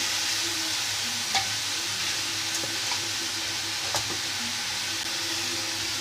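Chopped mushrooms, onion, cabbage and tomato frying in a home kitchen pan for a breakfast vegetable dish, giving a steady, close sizzle with a few faint clicks of stirring.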